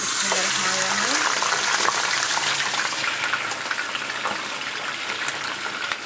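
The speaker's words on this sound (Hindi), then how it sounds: "उसमें सबसे पहले हम करेंगे गोश्त को फ्राई" Beef pieces frying in about a cup of hot oil for a dhaba-style karahi, a loud, steady sizzle and bubbling close up that lasts throughout, with a brief voice near the start.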